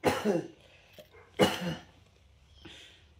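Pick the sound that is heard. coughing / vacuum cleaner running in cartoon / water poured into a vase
coughing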